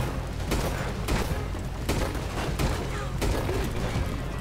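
Gunfire in Red Dead Redemption 2, a rapid series of loud sharp shots in repeated bursts over a steady game soundscape, with voices speaking in between.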